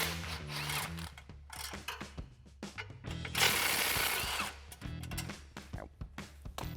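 Exhaust hanger bolts on a 2018-2023 Mustang are loosened with a 13mm socket and extension: close ratchet clicks and metallic tool handling in quick, irregular bursts, with no talk.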